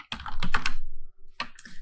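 Keys on a computer keyboard are tapped in two quick bursts of close, crisp clicks with a short pause between them, heard alone.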